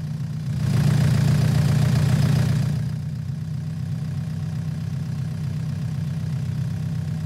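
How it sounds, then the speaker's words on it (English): An old green tractor idles in a farming video game, a steady low engine rumble that swells louder for a couple of seconds early on, then settles back to an even idle with no talking. "we're heading back with this old green tractor"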